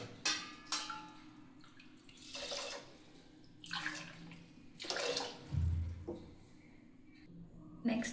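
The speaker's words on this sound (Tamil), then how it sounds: "அளவு தண்ணி ஆட் பண்ணிக்கலாங்க." Water poured into a cooking pot while making ven pongal, in several separate splashing pours with short pauses between them, close and moderately loud.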